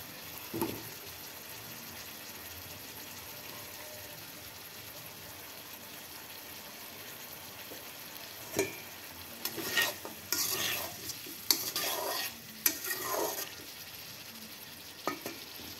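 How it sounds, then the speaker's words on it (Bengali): Potatoes, green chili and chopped onion fry in oil with a soft continuous sizzle, joined by louder bursts of stirring and scraping in the pan toward the end. "ওই তেলের মধ্যে দিয়েছি আলু, কাঁচামরিচ আর পেঁয়াজ কুচি।"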